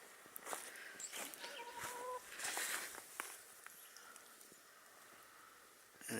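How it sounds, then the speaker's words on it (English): Andalusian and New Hampshire Red chickens cluck and squawk faintly in scattered bursts, with a few sharper calls and light rustling in a quiet outdoor yard. "these are the noisy chickens in the background"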